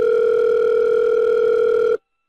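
Steady telephone dial tone for an outgoing call, loud and continuous for about two seconds before cutting off abruptly into silence.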